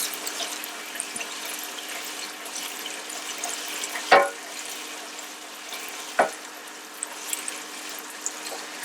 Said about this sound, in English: So I'm frying this for about 3 minutes.